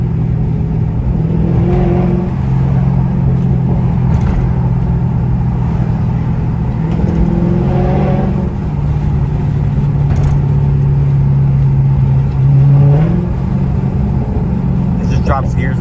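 Dodge SRT 392 in track mode driving through downtown, a constant deep engine rumble with a few revs and shifts as it drops gears, and one rising rev near the end.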